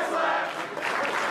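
A wrestling crowd at an indoor show cheers and roars loudly in a sustained, dense swell of many voices, rising and dipping briefly.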